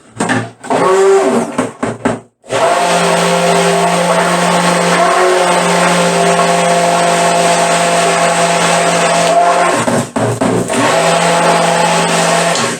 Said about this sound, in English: You can probably hear it with the stick blender,